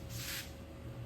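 Short spray-gun hiss touching up paint on a rocker panel of a Grand Wagoneer, one brief burst of airy spray over a constant background hum.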